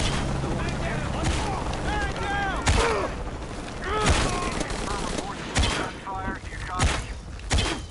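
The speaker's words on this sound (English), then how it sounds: "Confirm reports of gunfire." Gunfire in the Shadow of the Tomb Raider video game: loud, rapid bursts of shots crack out repeatedly, mixed with shouting voices and game noise.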